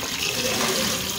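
Water pours steadily into a pan of tomato paste while pasta is being cooked, giving a close, continuous splashing rush with no talk.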